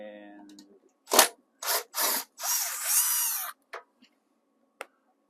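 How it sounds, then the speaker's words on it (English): A cordless power drill spins out screws from a tankless water heater in several short bursts of whirring, followed by faint clicks, close and loud. "remove the screws, set those aside because we'll probably end up reusing them."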